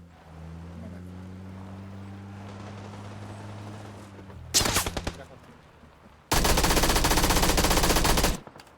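Two loud bursts of rapid automatic gunfire in PUBG, a short one followed by a longer sustained stream, after a low droning hum.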